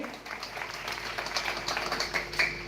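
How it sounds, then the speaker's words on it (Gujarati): A crowd claps in a brief burst of applause at an Independence Day event after a speech, fairly faint and somewhat distant, with a scattered, steady patter. "જોરદાર તાળીઓથી આપણે બતાવી લઈએ"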